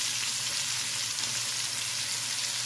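Ingredients for pancit frying in a pan, a steady soft sizzle with faint stirring, continuous and close, no talking.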